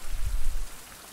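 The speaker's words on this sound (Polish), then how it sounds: "Póki pada." Rain falls in the survival game Survival Fountain of Youth, heard as a brief low rushing patter that fades after about half a second, with no voices.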